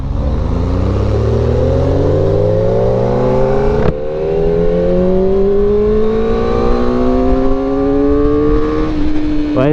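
A Kawasaki ZX4-RR four-cylinder motorcycle engine revs up loudly and steadily toward 10,000 rpm in fifth gear, its rising whine climbing smoothly with a brief dip midway before pulling higher again.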